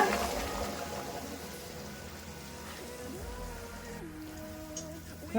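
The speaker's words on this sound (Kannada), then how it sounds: "ನೀರು ಚೆನ್ನಾಗಿ ಕುದೀತಾ ಇದೆ." Water at a rolling boil in a pot on the stove before rice goes in, a soft continuous bubbling and hiss with faint clinks, quiet and close.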